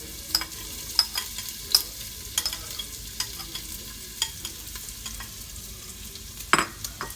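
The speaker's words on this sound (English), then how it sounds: "we're gonna put the diced up red onions in the bowl" Diced red onions sizzle steadily in hot olive oil in a pan, a soft continuous frying hiss broken by intermittent scraping stirs and clinks, close and moderately loud with no talking.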